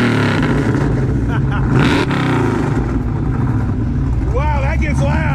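A Kenne Bell supercharged Saleen clone with an old-school push rod V8 roars loudly and steadily up close, revving hard with supercharger whine, while voices talk beneath the engine noise.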